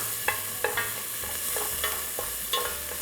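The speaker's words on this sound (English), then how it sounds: "And also our garlic and onion. And let that saute for a little bit." Garlic and onion sauté in a pan with a steady sizzle, while a utensil scrapes and stirs through them in several distinct strokes.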